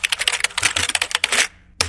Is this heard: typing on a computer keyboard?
yes